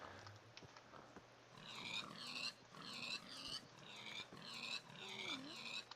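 Pigs oink and grunt in Minecraft with the Feed the Beast modpack, a run of short squealing snorts repeating in a loose rhythm at moderate loudness over a steady low hum, with no talking.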